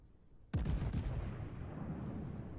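Warship naval guns firing into smoke in a naval video game: one sudden heavy boom followed by a quick ripple of several rapid blasts, then a long loud rumbling roll that lingers, with no talk.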